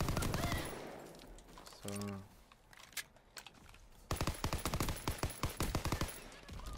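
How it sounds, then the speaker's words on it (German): Gunfire in a video game, single shots aimed at long range, comes as sharp, fairly faint cracks. A tighter run of quick shots follows later, and a voice speaks briefly. "Natürlich einzeln geschossen wegen der Reichweite"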